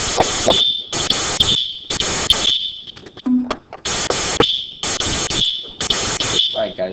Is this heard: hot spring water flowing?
no